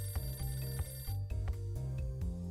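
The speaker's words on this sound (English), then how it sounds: "Phone's ringing." Phone ringing in the Nintendo DS game Hotel Dusk: Room 215, a repeated electronic bell-like ring in quick regular pulses over a low game music drone, with no talking.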